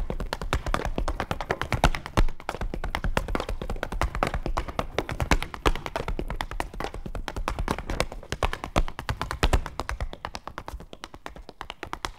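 Dense, rapid tap dancing in the style of Chaney and Chuck Green: metal taps striking a floor in fast, loud, driving rhythms, the hits clean and continuous throughout with no talking.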